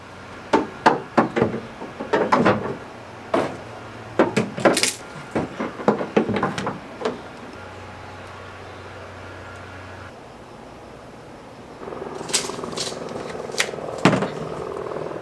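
PVC pipes for a camper shell on a third-generation Tacoma are cut to size with a run of sharp, close knocks and taps, a pause with a low hum, then a rougher stretch of cutting noise near the end.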